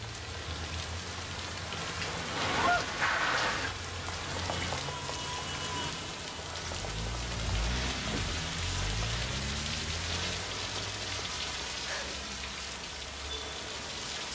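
Steady rain patters down across the whole stretch in a scene from the 1992 film Un Cœur en hiver, a dense even hiss with low rumbling underneath and no voices.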